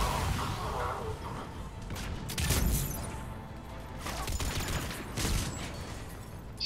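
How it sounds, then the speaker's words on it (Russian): Explosions and gunfire from grenades in the video game Mass Effect 3, with bursts of booming blasts and crackling shots layered over a dense, continuous battle din at moderate loudness. "Гребаные гранаты."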